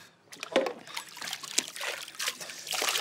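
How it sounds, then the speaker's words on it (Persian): Water splashes and trickles in short uneven bursts as it is poured over a child's head, soft and close with a quiet indoor background. "بچه بیا این آب بریز سر بچه."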